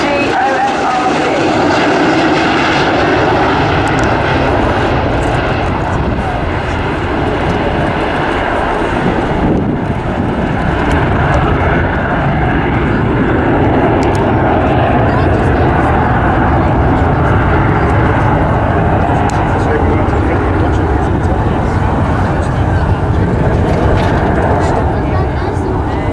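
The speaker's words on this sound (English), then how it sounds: "the aircraft's going to come past us, and this is in landing configuration, just above landing speed" A Boeing 727 jet in landing configuration, just above landing speed, roars past at an air show at RAF Cosford, a loud continuous engine rumble that swells and holds throughout while someone talks over it.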